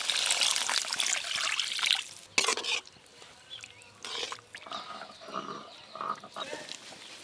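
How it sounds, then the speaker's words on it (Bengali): Water poured into a pan of curd catla fish curry masala trickles and splashes in a steady stream, loud at first, then thinner dribbling and stirring noises follow. "এবার পরিমাণ মতো জল দিয়ে দেব, জল।"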